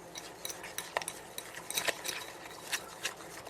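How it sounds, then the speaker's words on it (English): Utensil beating and stirring lemon cookie glaze in a bowl, a run of light scraping clinks and taps at an uneven rhythm, close and fairly quiet. "just beat it and stir it till it's nice and smooth"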